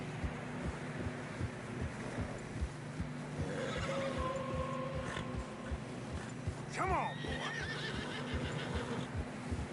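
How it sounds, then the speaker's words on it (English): Horses whinny loudly in a video game as hooves clop through fresh snow on a narrow trail, with wind noise and a voice speaking briefly over the animals. "Horses are getting tired."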